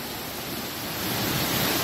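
A waterfall in Uttarakhand rushes in a dense, steady roar of falling water, broad and loud from nearby, swelling slightly toward the end with no voices.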